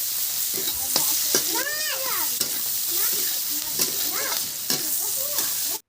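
Green chillies fry in hot oil in a kadhai, giving a steady, close sizzle that runs throughout with scraping and stirring noises before stopping abruptly at the end.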